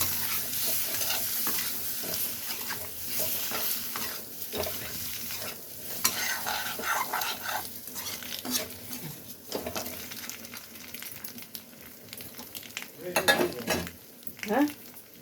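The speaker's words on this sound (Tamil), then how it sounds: "முட்டையை அதில் போட்டுடலாம். நல்லா லோ ஃப்ளேமில் வச்சுக்கோங்க" An egg frying with chili powder in a pan over a low flame, a continuous close sizzle with frequent stirring scrapes and utensil clinks that grow busier toward the end, and no talking.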